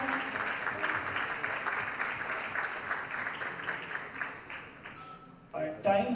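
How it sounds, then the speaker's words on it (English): Audience clapping at a fundraising evening for children's medical treatment, a dense sustained round of applause that carries on steadily, then thins and ends with a brief louder burst of other sound near the close. "Big round of applause, ladies and gentlemen."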